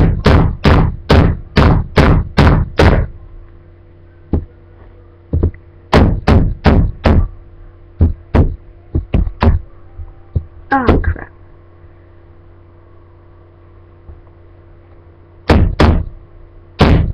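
Hammer blows drive stubborn nails into wood while a toy gun is built, loud sharp strikes in quick bursts of several, with pauses between groups.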